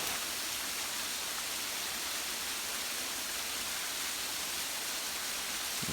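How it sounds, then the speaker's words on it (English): A small waterfall cascades down the side of a palisade wall along Tischer Creek in Duluth, Minnesota, giving a steady, even hiss of falling water heard from a distance, soft and unbroken with no voices. "A little waterfall cascading down the side of the palisade wall over there."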